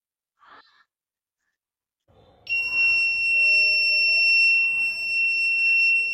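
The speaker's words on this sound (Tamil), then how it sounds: "அலர்ட்டுமே அடிக்கும்." A car reversing accident-protection electronics circuit sounds its alert: a steady, piercing electronic buzzer tone that starts abruptly and holds continuously at close range, after a brief faint sound.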